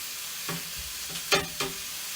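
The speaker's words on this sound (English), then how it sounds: "I'm just going to chuck this meat onto this pan. You can hear it sizzling already." Meat sizzling in a frying pan for a summer salad, a steady close hiss of frying with a few brief clacks and scrapes as it is stirred and moved about.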